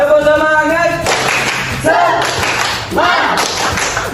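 A class of primary school children does a rhythmic spirit clap, loud bursts of group clapping and thumping in a repeating pattern, preceded and interspersed by voices chanting together.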